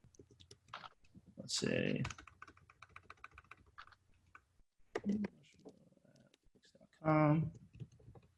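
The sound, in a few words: typing an email address on a computer keyboard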